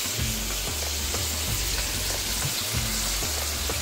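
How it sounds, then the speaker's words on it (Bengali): Cut vegetables seasoned with salt and turmeric sizzle loudly in a hot pan for a Bengali pachon dish. The frying hiss is constant, with a spatula stirring and scraping in a repeating rhythm. "একটু ভাজা ভাজা হোক"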